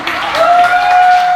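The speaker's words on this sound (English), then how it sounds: "Round of applause for the senator." A crowd at a community meeting gives a brief round of applause for a state senator, with dense, close clapping and a thin electronic whine running underneath.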